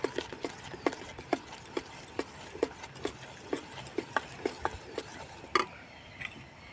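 Homemade neem soap mixture is stirred in a container with a steady run of evenly spaced light knocks and clicks, each one crisp and close, continuing without pause and ending in a slightly louder knock.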